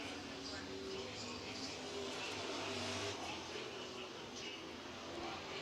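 Super trucks race around an oval track in a heat, engines droning and revving at a distance in a continuous roar, with a commentator's voice faintly mixed in.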